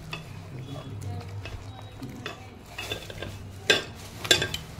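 Malpua batter made with milk is stirred and beaten in a bowl, giving soft wet slaps and light spoon clinks against the side, close and irregular, with brief talking in the background.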